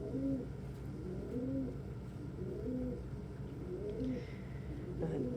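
Pippin, a pet rescue bird, coos in soft repeated phrases at a slow, even rhythm, about four or five calls over a low steady background hum.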